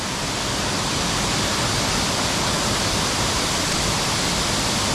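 The Saleuy waterfall in Xamneua, Laos roars steadily and loudly, a dense unbroken rush of falling water with no pauses.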